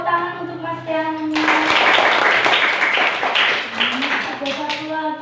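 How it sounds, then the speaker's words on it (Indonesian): Children in a classroom break into a short burst of lively hand clapping that cuts in between stretches of a teacher's singsong voice, with talking before and after the clapping. "Tepuk tangan untuk Mas Keanu"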